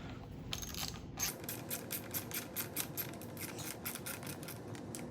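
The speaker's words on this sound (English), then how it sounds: "Takes an 8mm socket up top here, or Torx, and it should just come right off." An 8mm socket ratchet backing out a handguard bolt on a 2020 KTM 300 XC-W, with a fast, steady run of close, crisp clicks over a faint background hum.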